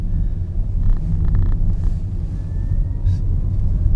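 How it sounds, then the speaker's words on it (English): A Honda Clarity fuel cell car drives a lap of the Twin Ring Motegi test track with a steady low rumble of road noise and a faint, thin electric whir rising briefly over it. "when you floor it, you only hear a whirring noise"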